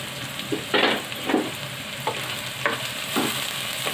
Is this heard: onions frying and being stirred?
yes